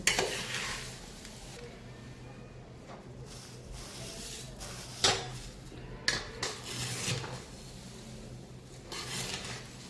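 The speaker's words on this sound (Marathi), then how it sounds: "हलवून घ्यायचं फोडणी पूर्ण" A spoon stirs poha chivda and its tempering in a pan, giving a soft continuous scraping rustle with a light sizzle. Occasional sharper metallic clinks stand out against the background.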